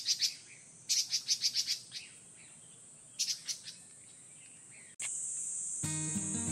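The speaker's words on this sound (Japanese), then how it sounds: "なんとさえずりと地鳴きの違いなんでしょうかね" Wild birds at Muroike park in summer sing and call in bright repeated chirping bursts, with clusters of quick notes spaced by pauses, then a steady high insect-like buzz toward the end.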